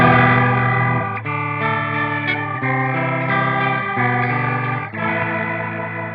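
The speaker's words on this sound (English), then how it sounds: "like a really old organ there with a sort of almost knackered Leslie speaker" A sustained organ-like tone from a Boss MO-2 Multi-Overtone guitar pedal, like an old organ through a worn Leslie speaker, with warbling, wobbly modulation and a slightly gritty edge, shifting through several chords, loud and continuous.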